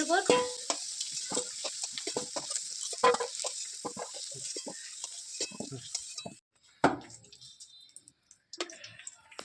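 Potatoes frying in oil in a pan for a village-style chicken curry: a close hiss of sizzling under repeated clinks and scrapes of a utensil, then the sizzle drops away, leaving sparse knocks.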